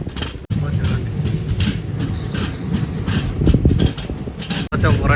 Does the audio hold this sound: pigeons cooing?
no